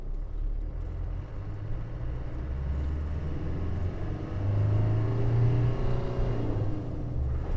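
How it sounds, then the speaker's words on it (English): The diesel engine of a Land Rover Defender 130 pulls away in first gear, a low steady rumble heard from inside the cab that rises in pitch and loudness as it accelerates midway, with no talking. "Listen to that diesel. First gear pull away."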